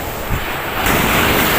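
Strong waves crash against the Al Mina breakwater in Abu Dhabi during bad weather, a loud broadband surge of surf and spray with wind buffeting the microphone, building in the second half.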